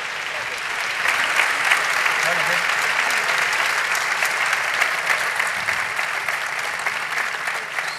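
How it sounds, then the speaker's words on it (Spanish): A festival crowd applauds Nicolás after his town-fiesta proclamation speech in Cehegín, dense continuous clapping at steady loud level throughout. "Muchísimo aplauso para Nicolás."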